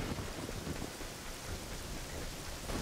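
Steady rain and rumbling thunder fill Kakariko Village in Zelda: Ocarina of Time, a dense even downpour throughout the short stretch with no voices.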